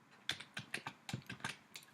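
Fingers type on a computer keyboard, about a dozen quick clicky keystrokes in an uneven rhythm, close and fairly quiet, no talking.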